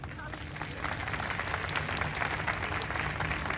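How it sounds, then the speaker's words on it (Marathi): A crowd claps loudly and continuously for the organiser of an open-air comedy event in Pune, dense applause with a speaker's voice mixed in underneath. "हात वरती करून जोरात टाळ्या वाजवा"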